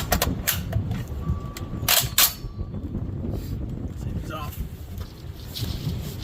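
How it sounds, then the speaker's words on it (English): Heavy wind gusts buffet the microphone at an outdoor rifle range, a constant low rumble with louder bursts, under brief speech. "Oh my God, it's windy."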